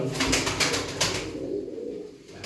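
Turkish pigeons coo in a loft, a soft low rolling murmur repeated in several near, steady calls with faint background rustle and no talk.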